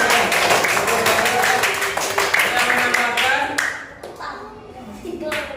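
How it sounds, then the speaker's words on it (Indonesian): A classroom of students claps hands in a quick burst of applause, fading and thinning out toward the end, with a few voices mixed in. "Oke, tepuk tangan."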